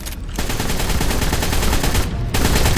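Rifle fire in the video game Ark Survival Evolved on The Island map, loud rapid continuous shots that break off twice only briefly, with no talk over them.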